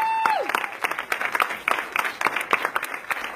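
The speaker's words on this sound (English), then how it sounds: "give them a round of applause for all the work that they do" Festival opening audience claps for the board members, a scattered, moderately loud round of individual claps with distinct irregular hits after a brief tone at the start.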